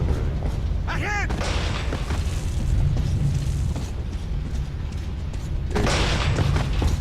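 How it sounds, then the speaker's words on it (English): Gunfire erupts in the video game Metro Last Light Redux as heavy booming shots and bursts, clustered near the start and again near the end, over a continuous noisy action background with possible voices. "What? Who's shooting?"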